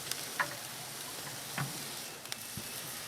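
Pecan-crusted pork tenderloin sizzling on a Grill Dome kamado grill, a steady close frying hiss with a few faint ticks and clicks and no talking.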